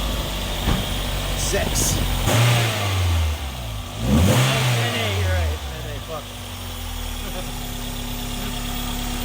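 A 1994 Toyota MR2, naturally aspirated with a slick top, cranks and starts, revs briefly, then settles into a steady idle, heard up close with a person speaking briefly.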